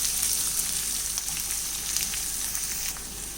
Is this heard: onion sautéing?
yes